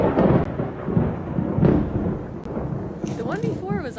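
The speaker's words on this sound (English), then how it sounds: "Oh, there was another lightning." Thunder rumbles low and heavy through a lightning storm, rolling in swells at a moderate distance, while a person talks over it.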